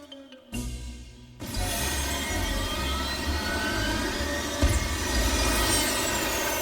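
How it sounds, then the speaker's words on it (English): A cartoon spaceship's engines firing for launch: after a brief quiet start, a loud, steady jet-like roar sets in and holds with a rising whine layered on top, close and alone. "the ship's engines are powerful enough to exert a push that's stronger than the pull of Earth's"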